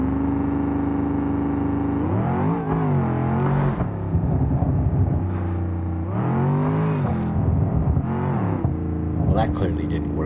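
A Gavril Burnside in BeamNG, refitted with race rear leaf springs, revs hard through rising and falling engine pitch over about ten seconds, loud and close, with a rattling clatter near the end.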